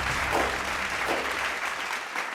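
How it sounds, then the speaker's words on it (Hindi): An audience at an awards celebration applauds, steady dense clapping throughout, fairly loud and continuous. "मैं चाहूँगा इन चारों वीसी ट्रेनिंग हेड्स के लिए जोरदार तालियां"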